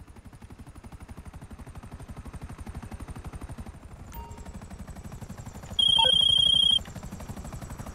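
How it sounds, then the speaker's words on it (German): A helicopter's rotor chops in a fast, steady rhythm throughout in the video game GTA 5, with a brief electronic beeping tone near the end. "Ich fliege jetzt mal eben kurz mit dem Hubschrauber darüber."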